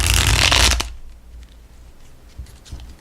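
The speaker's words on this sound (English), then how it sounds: "As I try to shuffle the cards, it's a little hesitant" A burst of crisp shuffling of a brand-new, stiff tarot deck for under a second, then quiet handling with a few soft taps and rustles.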